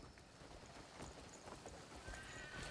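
Horses in the video game Crimson Desert clip-clop past at a steady trot, hooves knocking under faint background ambience, with a brief whinny near the end.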